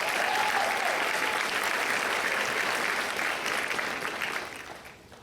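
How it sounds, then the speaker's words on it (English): Audience applause at an employee of the year awards show, a full steady wash of clapping that holds and then tapers off near the end. "So let's give her a round of applause."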